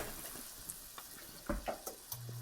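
Sauce for a cheesy tuna casserole is stirred in a hot pan, a quiet simmering sizzle broken by soft scraping knocks of the spoon, close and faint.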